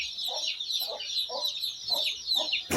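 Hens cluck repeatedly with chicks nearby on a farm, the short clucks coming in a steady rhythm of about five bursts over a continuous high chick peeping, fairly close and clear with no talking.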